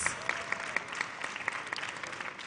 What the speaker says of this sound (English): Please, a round of applause for all the firsts.